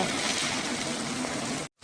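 Water gushes strongly from a household tap in a steady, close, loud rush that cuts off abruptly near the end.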